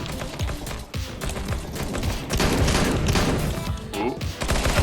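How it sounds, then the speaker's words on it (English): A flashbang grenade goes off amid a busy video game firefight, with a dense, loud wash of blasts, crashes and rapid gunfire continuing throughout, and no clear voices. "flashbang"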